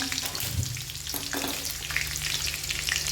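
Green chillies hit a cumin tempering in hot oil for sabudana khichdi, giving a close, continuous crackling sizzle with a couple of brief stirring knocks and no talk.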